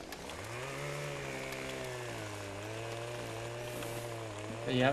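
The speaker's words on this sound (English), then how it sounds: "Chainsaw." Chainsaw in Farming Simulator 2015 forestry work, a steady droning engine whine that rises after starting and holds a buzzing pitch, fairly quiet, ending with a brief louder burst.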